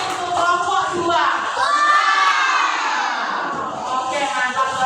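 A crowd of schoolchildren in a classroom clapping, cheering and shouting together, loud and sustained, with excited voices overlapping throughout.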